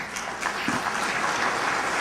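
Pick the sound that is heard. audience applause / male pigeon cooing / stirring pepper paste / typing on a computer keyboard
audience applause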